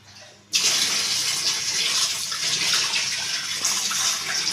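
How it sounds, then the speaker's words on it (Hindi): Water gushes steadily into a washing machine being checked for a leak after repair, starting abruptly and continuing as a loud, even rush with no speech. "अभी हम इसमें पानी डाल रहे हैं"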